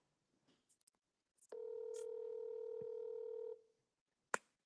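A phone call is placed and forwarded to voicemail: a few faint beeps, then a steady two-second tone, followed by a sharp click at the end, with no talking.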